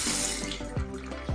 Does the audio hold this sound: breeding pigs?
no